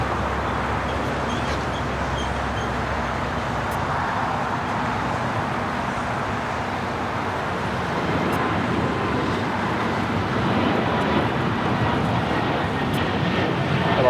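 An Embraer E195-E2 airliner taking off at LAX, a broad steady roar that swells and deepens over time, with faint voices in the background.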